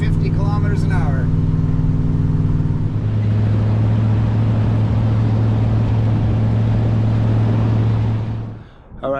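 Engine of a truck towing a trailer up a steep hill at low speed, a loud, steady laboring drone with a strong low hum that holds for several seconds before easing off near the end.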